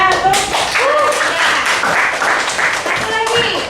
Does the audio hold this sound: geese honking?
no